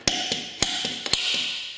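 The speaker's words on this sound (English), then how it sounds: "I'm going to use a center punch." A steel center punch is struck by a hammer to mark a drilling point, giving a series of sharp, close metallic taps at an uneven rhythm, with no talk.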